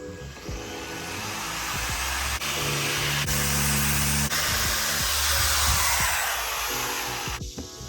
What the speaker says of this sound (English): I'm just going to hit it with some degreaser